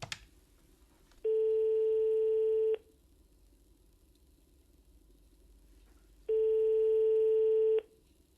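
A telephone rings in two long, steady electronic tone bursts separated by a pause, clear and close, with no talk over it.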